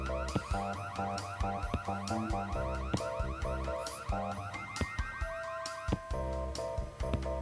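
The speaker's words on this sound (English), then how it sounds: "Oh my god, the alarm just went off." Car alarm inside the video game Christmas Shopper Sim, a cycling electronic wail with repeated pulsing tones and stepped pitch changes over a busy game mix, loud and continuous.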